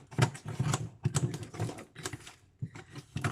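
Scissors cut open a delivered parcel of beef: close, irregular clicking snips and rustles come in quick bursts with brief pauses between them.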